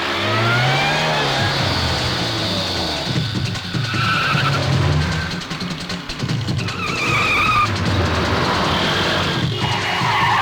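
A car skids and revs hard in a Hindi-dubbed South Indian action movie scene, the tyre screech and engine roar loud and continuous over about ten seconds amid dense scene sound.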